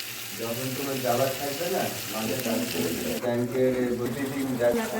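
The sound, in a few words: frying spiced fish curry masala in a pan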